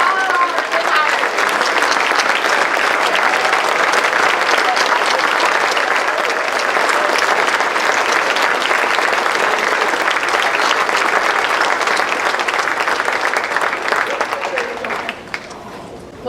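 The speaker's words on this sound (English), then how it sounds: "We need everybody to stand up, give them a round of applause." Sustained applause from an audience standing for retirees at a school district awards evening, loud and steady throughout before tapering off near the end.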